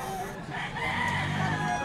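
A rooster crows loudly and close by at a busy chicken market, with other fowl clucking and people talking in the background.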